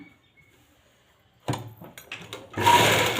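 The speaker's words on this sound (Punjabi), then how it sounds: "ਹੁਣ ਆਪਾਂ ਦੂਸਰੀ ਸਾਈਡ ਦੀ ਸਲਾਈ ਲਗਾਉਣ ਲੱਗੇ ਆ" A sewing machine stitches the second side seam of a lined salwar, in short bursts that start after a quiet pause and grow louder and more continuous toward the end, close by with no talking.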